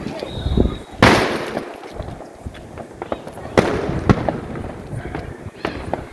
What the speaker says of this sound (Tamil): இப்ப நயாகரா ஃபால்ஸ் எப்படி வந்து வெடிக்குது?